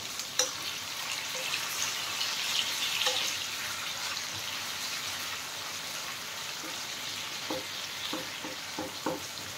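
Sliced onion and slit green chilies fry steadily in a hot pan, with a continuous bright sizzle and crackle and a few soft stirring taps toward the end.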